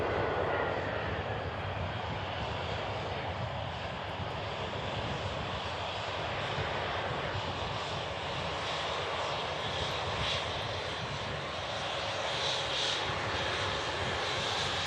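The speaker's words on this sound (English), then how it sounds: "EasyJet just touching down from Belfast." An EasyJet airliner arriving from Belfast touches down at Manchester Airport, its engines producing a sustained, fairly distant roar that holds steady throughout.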